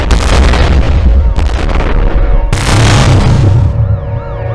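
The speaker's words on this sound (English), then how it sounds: "The explosion was ear-splitting." Dramatized sound effect of a volley of rockets exploding at once: loud, continuous roaring blasts with sudden booming onsets, followed by a rumbling aftermath with whistling, wavering tones.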